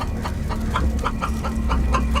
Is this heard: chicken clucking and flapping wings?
yes